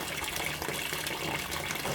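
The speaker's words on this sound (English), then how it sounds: "Now you can see water is filling" An LG fuzzy logic 6.5 kg top-load washing machine filling with water, a steady close gush of water pouring into the drum, continuous and even throughout.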